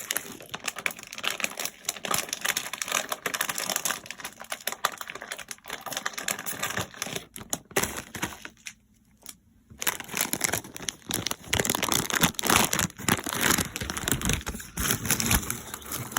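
Crinkling and tearing of an Eti Crax cracker box and its packaging being opened, a steady close rustle and crackle with a brief quiet gap partway through, no talking.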